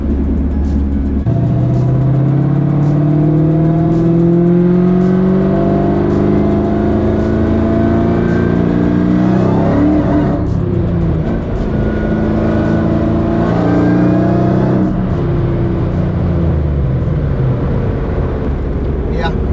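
A boosted Cobra car engine revs hard and misfires as the spark blows out, loud and close with rising and falling engine tones, regular popping stumbles and a sharp break near the middle, while someone talks over it.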